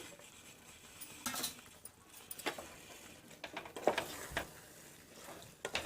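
Fried drumsticks get stirred through thick masala in a pan, giving scattered scraping and clinking strokes over a faint sizzle. The sound is fairly quiet and close, with no talking.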